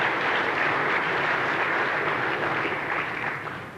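Dense, steady applause from an audience at a talk given to publicans in a Hawaii hotel, filling the whole stretch loud and close before thinning slightly at the end.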